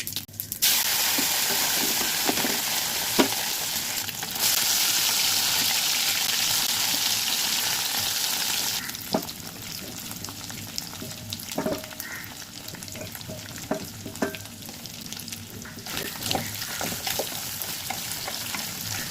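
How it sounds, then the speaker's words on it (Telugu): Boiled prawns frying in hot oil in a pan, a loud continuous sizzle and hiss close by, easing after a few seconds into a lower crackle with scattered stirring clicks, and no talking. "ఇది బాగా ఫ్రై అవ్వాలండి. మంచిగా గట్టిగా అవ్వాలి ఫ్రై."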